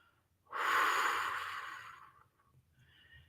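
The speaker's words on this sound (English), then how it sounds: "An extra exhale." A single deep, forceful exhale through the mouth during guided meditation breathing, close and loud, starting abruptly and tapering off over about two seconds.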